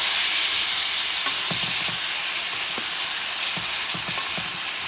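Tomato drops into a spicy stew pot of hot oil, setting off a loud, steady hiss and crackle close up, broken by a few light clicks and scrapes of stirring.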